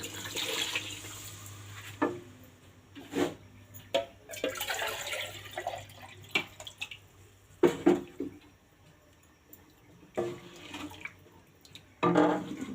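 Water pours into a cooking pot of aloo matar salan in a home kitchen, in uneven splashing bursts with brief pauses, fairly quiet and close, with no talking.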